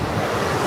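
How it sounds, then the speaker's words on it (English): Strong wind buffets a microphone on a beach, a dense, loud, steady roar with surf mixed in and no voices. "I know it's all windy"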